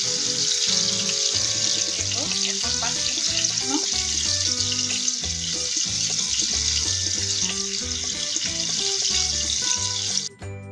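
A whole tilapia fish fries in oil over medium heat, giving a steady, continuous sizzle throughout with background music.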